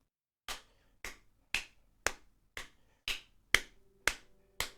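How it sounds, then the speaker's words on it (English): Single sharp hand claps, nine of them, spaced about half a second apart, crisp and close in an otherwise silent room, each with a short decaying tail. "if I just clap without talking"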